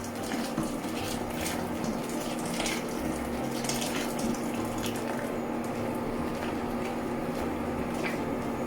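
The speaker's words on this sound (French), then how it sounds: "on va mettre 2 litres d'eau sur les lentilles. De l'eau bien bouillante." Boiling water poured steadily from a kettle or pot onto red lentils for a Turkish mercimek soup, a continuous close gushing and splashing that holds evenly throughout with no talk.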